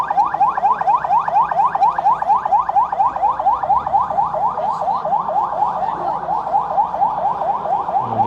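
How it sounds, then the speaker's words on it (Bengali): An ambulance siren wails in a fast, regular up-and-down cycle, loud and close and repeating steadily throughout at a fire scene in Uttara, with no voices over it. "আমরা দেখতে পাচ্ছি যে এখানে একটি অ্যাম্বুলেন্স এসেছে।"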